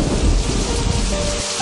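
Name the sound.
heavy rain falling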